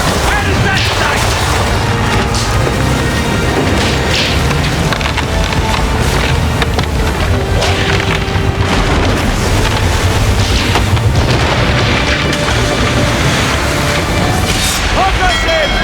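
Naval battle in Assassin's Creed 3, with a ship's cannons firing a broadside: loud wooden booms and splintering crashes one after another, under shouted commands from the crew, with a heavy, dense din throughout.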